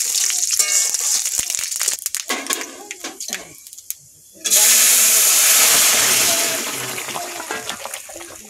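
Mustard seeds and dry red chillies pop and sputter in hot oil for a cucumber chutney, first as scattered crackles and then as a loud, sudden burst of sizzling that slowly fades, with voices talking in between.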